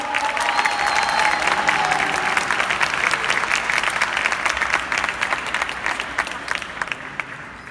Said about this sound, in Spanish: Un fuerte aplauso para Javier